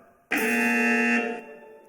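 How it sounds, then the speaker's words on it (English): Quiz buzzer at a fashion retail quiz event, one loud steady electronic tone holding for about a second before cutting off. "Whoever has it goes for the buzzer"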